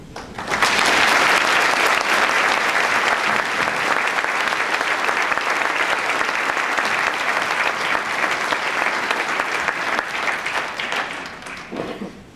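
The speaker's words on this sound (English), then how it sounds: "Give them another big round of applause." Audience bursts into loud, sustained applause, a dense crowd of clapping hands that swells quickly and holds steady before tapering off at the end.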